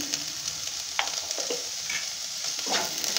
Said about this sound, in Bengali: আমি এইভাবে হালকা করে ভেজে টেজে নেব।